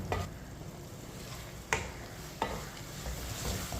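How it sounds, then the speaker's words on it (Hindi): Arbi (taro) roasts in masala in a pan over medium heat as a spoon stirs it, giving a quiet sizzle broken by three distinct scraping knocks. "इसे 2 मिनट के लिए चम्मच चलाते हुए भून लेंगे"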